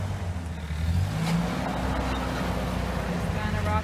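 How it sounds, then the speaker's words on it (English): Interior engine rumble from a first-generation Toyota 4Runner micro camper easing off a curb, a low steady drone with faint creaks and body movement, and someone talking over it. "So here we are driving off the curb"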